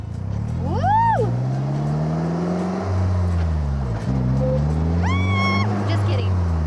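Polaris Slingshot SL engine accelerating, loud and close, its low drone rising in pitch and then dipping briefly before climbing again, with high whooping voices and talk over it.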